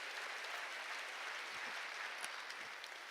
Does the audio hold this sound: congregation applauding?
yes